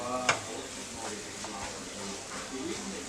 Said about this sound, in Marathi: सारखं परतत राहायचं आहे.